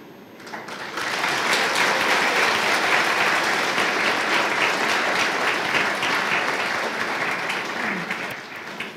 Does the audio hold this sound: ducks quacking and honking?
no